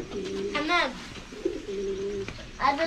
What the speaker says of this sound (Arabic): شوف هنا حمام